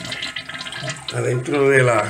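Toilet tank filling with water and draining at the same time, a rushing, gurgling flow that swells louder in the second half, heard close beneath someone speaking Spanish.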